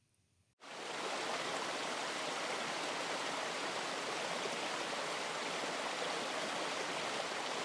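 The narrow upper Tschopau, a small forest stream, rushes and babbles close by in a dense, steady wash of water noise that starts abruptly after a brief quiet moment and continues unbroken.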